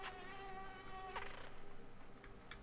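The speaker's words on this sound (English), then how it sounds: "Is that a wasp?" Insect buzzing of an attacking wasp in the dark side-scrolling puzzle game Limbo, a steady harmonic drone wavering in pitch throughout, with a brief louder burst midway, fairly close and alone.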